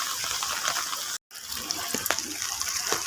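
Deep floodwater sloshes and splashes steadily near a parking area by a house, a continuous watery wash with a brief dropout midway and a few sharper splashes toward the end.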